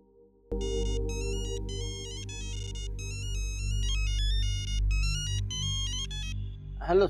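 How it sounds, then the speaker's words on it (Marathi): A mobile phone ringtone plays a repeating electronic melody, loud and close, for several seconds before it cuts off. "आता बबनलाच फोन करून बघतो मी"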